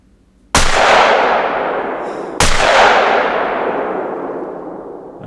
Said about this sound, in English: I'm going to shoot it with the shotgun